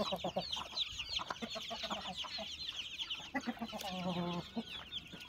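Chickens and chicks cluck and cheep together in a coop, a dense, continuous mix of soft calls with a louder rising cluck near the end, faint and steady.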